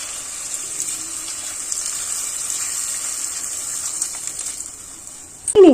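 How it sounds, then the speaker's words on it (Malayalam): Water pours into a pan of banana stem curry, a continuous soft gushing stream running for several seconds, ending in a short louder splash and clatter. "ഈ വാഴപ്പിണ്ടി ഒന്ന് വേവാൻ ആവശ്യമായിട്ടുള്ള വെള്ളം നമുക്ക് ഒഴിച്ചു കൊടുക്കാം"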